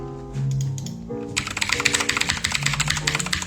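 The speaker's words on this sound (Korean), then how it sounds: "제가 이제 키보드 소리 나는 걸 좋아해가지고" Rapid, loud clacking of gaming mechanical keyboard keys in a steady flurry, close up, with a brief musical tone underneath at the start.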